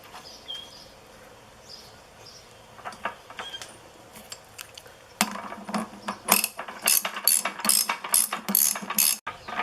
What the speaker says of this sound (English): This one I can use a ratchet on.